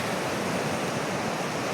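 A river swollen by heavy rain rushes past as a dense, steady roar of water, loud and unbroken for the whole stretch, with no voices.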